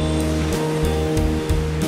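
Ocean surf washing and breaking in a steady, close roar, with surges swelling at regular intervals over a constant watery wash; no voices.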